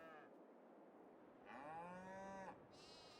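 Cows moo in a barn in the video game Farming Simulator 22. A couple of long, faint moos sound at a moderate distance over quiet ambient noise.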